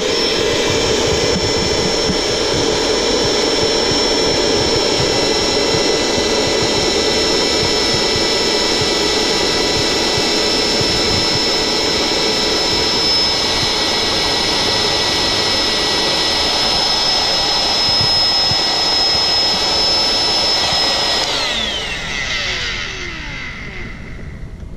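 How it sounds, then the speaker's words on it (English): A small reversible electric air bed pump, normally used for camping, runs nonstop sucking air out of a vacuum storage bag, a loud steady high-pitched whine with a bright tone that shifts and winds down near the end. "this little unit here blows up our air bed when we go camping, but it's a reversible type"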